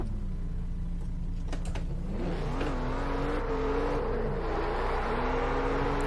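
A Chevrolet Corvette C7 Stingray, an American sports car in Test Drive Unlimited 2, revs and accelerates through rising gear sweeps, its engine drone loud and close and steady throughout.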